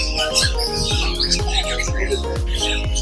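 Young fledgling birds chirping among many birds at a bird seller's, rapid high tweets and squawks repeating close by over a low, steady background.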